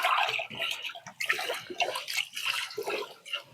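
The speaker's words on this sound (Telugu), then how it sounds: "ముందు బియ్యాన్ని కడుక్కోవాలి మనము. బియ్యాన్ని కడుక్కుంటే దాంట్లో ఉన్న పురుగులు అవన్నీ బయటకు వస్తాయి." Rice is washed by hand in forest stream water in the Nallamala hills, giving continuous close sloshing and swishing with irregular splashy bursts and pauses, and no voices.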